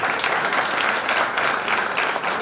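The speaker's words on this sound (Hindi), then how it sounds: "जोरदार तालियों से स्वागत कीजिए अंकिता शर्मा।" Dense, steady applause from a theatre audience welcoming an actress on stage at a legal-literacy and women's-empowerment play, many hands clapping together at full volume throughout with no voices on top.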